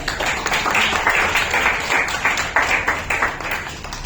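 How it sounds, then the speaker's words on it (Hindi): An audience at an oratory award ceremony claps for certificate of appreciation winners, a dense, steady burst of applause from many hands filling the room throughout. "जिनके लिए एक जोरदार तालियां"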